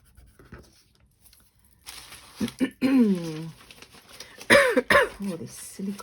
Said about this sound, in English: Oh, this silly cough is driving me mad.